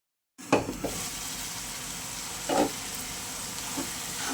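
Godavari prawns, for a prawn and raw mango curry, fry in a pan, giving off a steady close sizzle with a few louder crackling bursts and stirring sounds, and no voices.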